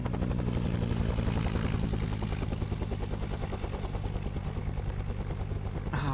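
Helicopter flying in the Arma 3 Vietnam military game, a steady dense rotor and engine drone heard continuously and fairly loud throughout, with no talk over it.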